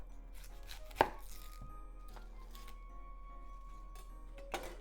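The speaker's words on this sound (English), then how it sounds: "Let's cut the onions first." A knife cuts an onion on a cutting board in a kitchen while miso soup is being prepared, giving a few sparse, quiet taps and knocks, one sharper chop standing out, with no talk.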